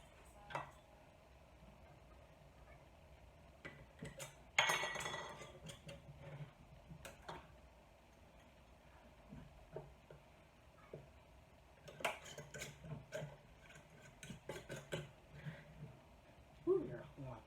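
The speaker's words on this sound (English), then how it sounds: "And put your lids on." Metal canning lids set onto glass jars of ground beef in a home kitchen, a few sharp clinks and taps scattered across a quiet stretch with light handling noise and occasional talk.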